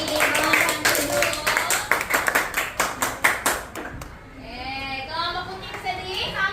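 Classroom of children clapping for a group of students, a burst of rapid, uneven applause that rises and then tapers off into the chatter of kids' voices.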